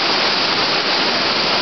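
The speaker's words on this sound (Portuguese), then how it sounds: "Olha, tem um monte de água, mano." Water gushes from a pipe, a loud, dense, continuous rushing roar like a waterfall, steady throughout with no voices.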